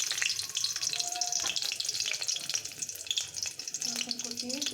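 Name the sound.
chopped garlic added to hot oil, frying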